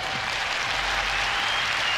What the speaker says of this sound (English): And give a big round of applause to third place, Valdez